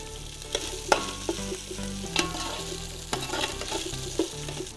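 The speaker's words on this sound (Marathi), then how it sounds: "हे खडे मसाले छान फ्राय झालेले आहेत." Whole spices for mutton biryani sizzle steadily in a pan, with a few sharp clinks and scrapes from stirring standing out over the frying hiss, and a low hum underneath.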